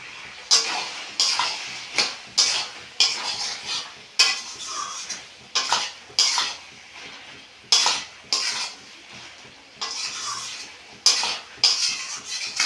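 A metal spoon stirs banana flower curry with prawns in a pan, knocking and scraping against the pan in repeated short bursts of clatter separated by brief pauses, close and fairly loud, with a faint sizzle beneath.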